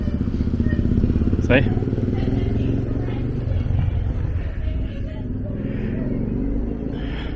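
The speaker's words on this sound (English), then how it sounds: "There goes a motorcycle." A motorcycle passes along State Street in Bristol, Tennessee, its engine rumbling loudly and then fading, with street traffic around it and a person speaking briefly over it.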